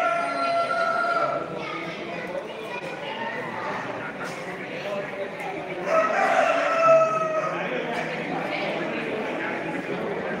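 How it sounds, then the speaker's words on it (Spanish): Roosters of an American breed crow among caged pairs at an outdoor poultry fair exhibition in Castilblanco, steady crowd chatter and voices underneath, the crowing fairly close and mixed with general hall noise. "Ya veis ahí, gallos americanos,"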